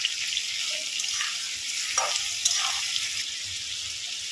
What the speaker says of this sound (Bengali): এটাকে 10 মিনিট একটু তেলে ভালো করে ভেজে নেব